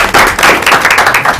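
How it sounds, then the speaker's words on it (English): Brief loud applause from an audience at a school board of education meeting honoring students, dense close clapping lasting only a moment. "Please give these students a round of applause."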